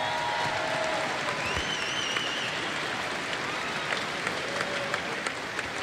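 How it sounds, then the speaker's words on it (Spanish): Applause fills the arena at a lucha libre event in Monterrey, a dense, steady wash of clapping with faint whistles and cheers rising over it. "Aplauso para la presidenta de Lucha Libre Triple A Worldwide,"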